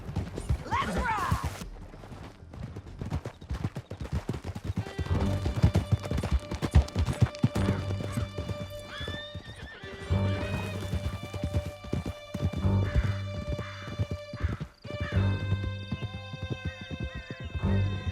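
Horses galloping in Red Dead Redemption 2, a fast steady clatter of hooves through most of the stretch, with a whinny early on, under in-game music and shouted dialogue.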